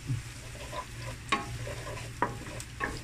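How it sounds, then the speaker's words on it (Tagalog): Garlic sautéing in melted butter until brown, a steady close sizzle broken by a few sharp scrapes of stirring, no voices. "ibutang ang garlic hangtod siya brown."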